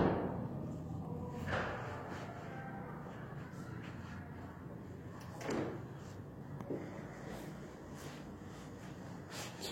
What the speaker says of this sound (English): They have to bang doors and make noise and laugh